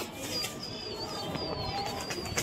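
Newly released pigeons in flight, their wing flaps and soft coos faint against a steady outdoor background, with whistling calls in the distance.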